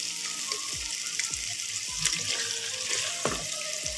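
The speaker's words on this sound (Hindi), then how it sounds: "मिसाला अच्छे तरीके से भून लेना है।" Masala spice base fries in ghee in a pot, a steady close sizzle and crackle with brief stirring scrapes and spits, heard alone without talk.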